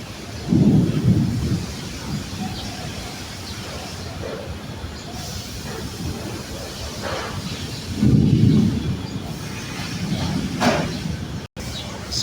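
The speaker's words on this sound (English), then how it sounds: "It's heavy rain here." Heavy rain in La Trinidad, Benguet, Philippines pours steadily while low thunder rumbles roll in twice, near and loud, with a sharp crackle near the end.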